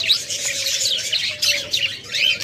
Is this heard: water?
no